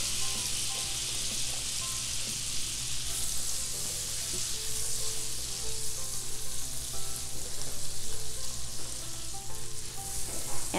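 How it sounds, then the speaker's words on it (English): Finely chopped onions sautéing in melted butter in a pan; a dense, steady hiss of frying close by, with no voices. "onions sauteing in butter, one of the best smells ever"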